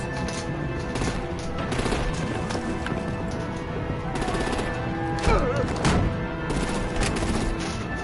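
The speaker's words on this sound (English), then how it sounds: "Bring out the artillery and disable their vehicles!" Artillery and heavy gunfire in Batman: The Enemy Within, a sustained, loud barrage of rapid shots with rising bursts near the middle and a voice speaking over it.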